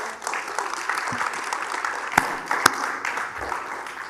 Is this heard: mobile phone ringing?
no